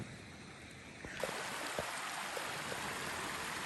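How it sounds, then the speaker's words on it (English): River water runs in Dominica after the November 6th trough, a continuous broad rushing wash that grows noticeably louder after the first second, with a few faint knocks and splashes under the steady flow and no voices. "And the river continues to flow."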